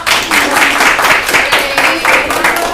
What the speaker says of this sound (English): Let's give applause to Pak Mano